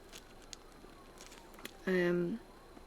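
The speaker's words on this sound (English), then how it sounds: "I think that's an ambulance." A siren sounds in the distance during a home chat in Australia, one short wailing tone that rises and cuts off while the surroundings stay quiet.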